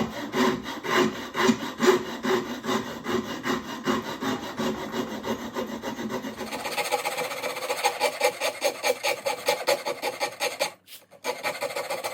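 A wooden heel being carved by hand with a rasp or saw, rhythmic close rubbing strokes repeating steadily, the texture changing partway through before a brief pause and resumption.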